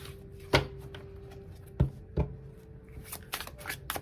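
Cards from a brand-new tarot deck are shuffled and tapped, giving a few sharp slaps and riffling bursts spread across a quiet stretch with a faint steady hum underneath.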